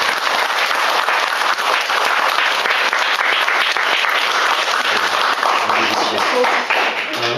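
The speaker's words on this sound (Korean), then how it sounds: "감사하다고 박수로 한번 격려해 주시겠습니다" A church congregation applauding its Sunday school teachers, sustained dense clapping that fills the room loudly and steadily throughout, with scattered voices mixed in.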